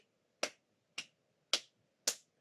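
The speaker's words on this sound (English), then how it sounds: "let's try clapping gently" Four gentle hand claps, evenly spaced about half a second apart, keep a steady beat, each crisp and short against a quiet background with no voices.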